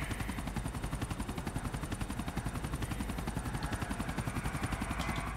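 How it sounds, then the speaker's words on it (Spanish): A helicopter in the video game GTA, its rotor chopping in a fast, steady pulse throughout, loud and close, with no voices. "Mandaste también un helicóptero por mí, güey."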